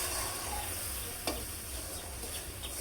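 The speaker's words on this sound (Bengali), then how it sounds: "তো এই পর্যায়ে মশলাটা আরও অনেকক্ষণ কষিয়ে নেওয়া হচ্ছে।" Spice paste stirred and fried in a wok-style kadai while preparing a shapla pata fish curry, giving a steady close sizzle with faint scraping and one brief sharp clink, no talking.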